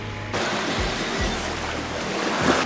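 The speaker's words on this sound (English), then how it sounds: "The waves are still kind of choppy because all the wind is coming from the wide open area." Choppy waves on Lake Erie wash steadily around a sailboat under way in strong wind, a continuous close rushing of water with no voices.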